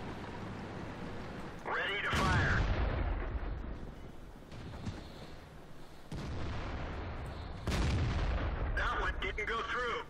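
Artillery fire in World of Tanks gameplay with tank destroyers, heavy booming blasts at irregular intervals, several loud impacts each followed by rumbling decay, mixed with whooshing shell sounds.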